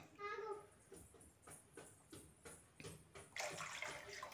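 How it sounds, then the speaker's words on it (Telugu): Masala water is poured into a pot for chicken mandi, giving faint, intermittent splashes and trickles beneath quiet speech. "ఇప్పుడు మనం మసాలా వాటర్ వచ్చినాయి కదా, ఆ వాటర్ వేసుకుంటున్నాను."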